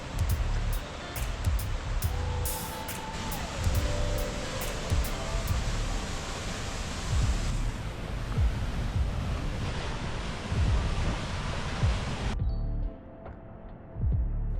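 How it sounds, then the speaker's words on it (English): A gorge waterfall thunders onto rock in a broad, steady roar of rushing water with faint wind noise, continuous and fairly loud, cutting off abruptly near the end. "hearing the thunder of the fall of water onto rock"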